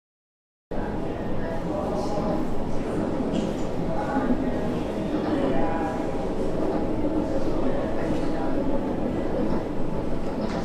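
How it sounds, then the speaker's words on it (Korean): A train on the Gyeongchun line rolls along with a steady, loud rumble and rattle of wheels on track, continuous throughout with faint voices mixed in. "청량리역을 떠난 기차는 머지않아 화랑대역에 도착합니다."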